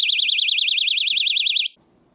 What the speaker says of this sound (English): When you get a bite, the reed switch inside opens up, activating the alarm.